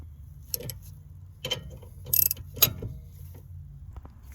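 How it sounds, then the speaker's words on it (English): A torque wrench tightens bolts on the rear wheel bearing assembly of a 2018 Nissan Altima, giving a few faint, scattered mechanical clicks and ratcheting ticks over a low background hum. "going to torque these to 20 foot-pounds."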